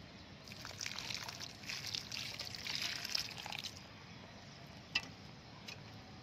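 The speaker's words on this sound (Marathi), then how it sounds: "थोडं पाणी घालून घेत आहे।" Water pours onto sandy soil around a newly planted marigold seedling for a few seconds with a soft splashing trickle, then fades, leaving a quiet background and one brief tap.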